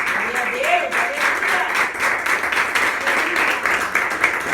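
Church congregation applauding during a worship service, a steady wash of many hands clapping throughout, with voices and singing mingled underneath.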